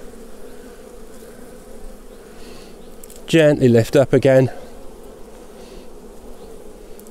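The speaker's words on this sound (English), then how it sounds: "some bees on my hand" Honey bees buzz around an open hive during a full summer inspection, a soft steady hum from a worker colony on a beekeeper's hand throughout, with a louder burst of closer buzzing in the middle.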